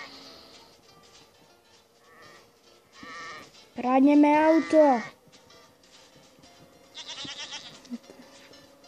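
A goat gives one loud, wavering bleat of about a second, set among quieter talk and small background noises in a playful street scene.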